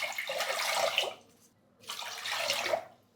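Water is poured over washed foxtail millet in two steady, splashing pours with a short pause between them, close and moderately soft, with no voices.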